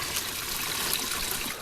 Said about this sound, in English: We got water going